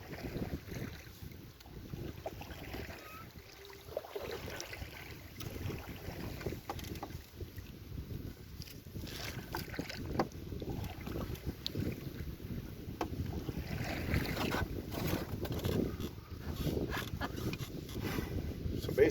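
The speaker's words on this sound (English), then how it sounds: "now we got a wind blowing here right in my face" Wind gusts straight into the face of a kayaker paddling on Marten Lake, a constant rough buffeting against the microphone mixed with paddle splashes and water sloshing around the boat, with occasional talk.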